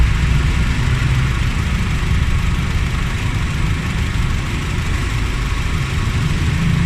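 A car engine idles steadily and loudly at close range during a battery charging test, a continuous low rumble with no speech over it.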